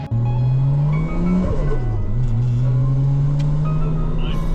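Car engine holding second gear at Ebisu Circuit, a loud steady drone that rises, dips briefly around the midpoint, then climbs again without pause.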